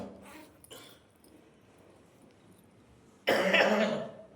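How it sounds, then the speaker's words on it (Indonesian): Faint murmuring during a church communion service at first, then a sudden loud cough bursts out near the end, close and harsh. "Kena batuk aku."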